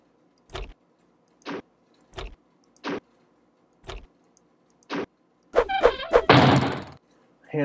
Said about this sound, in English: Hanna-Barbera door slam.